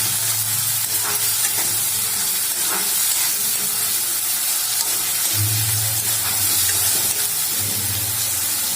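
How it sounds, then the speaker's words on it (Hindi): Chopped tomatoes fry in hot oil for veg fried rice: a continuous close sizzle and hiss with occasional stirring scrapes and low bubbling, no voices. "फिर हम इसमें डालते हैं कटे हुए टमाटर। टमाटर हमने 2 लिए हैं। अब हम इसको अच्छे से भून लेते हैं।"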